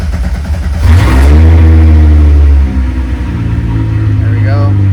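A VW MK2 with a swapped VR6 engine cranks, fires up and revs loudly up close, then settles into a rough, steady idle while someone talks.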